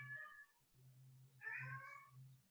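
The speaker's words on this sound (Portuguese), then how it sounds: "Vocês estão ouvindo meu gato miando?" A pet cat meows twice indoors, a short call followed by a longer, louder one about a second later, over a low steady hum in an otherwise quiet room.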